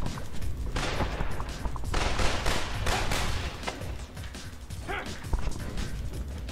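Enemy gunfire crackles in repeated rapid bursts in the Spider-Man 3 video game, loud and dense, mixed with crashing impacts and game noise throughout.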